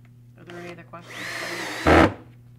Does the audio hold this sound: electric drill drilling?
yes